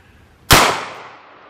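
A single loud, sharp gunshot from a .357 Magnum revolver with a 4-inch barrel, firing a 158 grain round over a chronograph outdoors, with a quick crack that decays into a short ringing tail.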